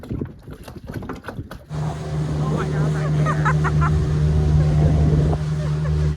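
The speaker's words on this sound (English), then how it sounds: "Got off just in time for a perfect dinghy ride in the sunset." A dinghy's outboard motor starts up and drones steadily at close range as the small boat moves on water at Beaufort, after a short stretch of wind and movement noise.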